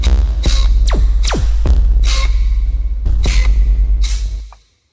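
Bass music synth bass line throbs heavily and loudly, with pitch-diving laser-like sweeps and bright accented stabs over a deep sustained low end, cutting off abruptly near the end with no speech.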